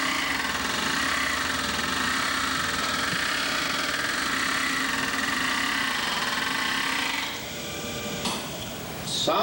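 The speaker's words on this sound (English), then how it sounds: "Sounds like we're back to our condition of non-uniform velocity. Now we've got that vibration traveling as a wave all through the vehicle." Driveline vibration from out-of-phase universal joints running at non-uniform velocity, a steady mechanical hum and rubbing drone with a faint rattle, fairly loud, then easing near the end with a few brief knocks.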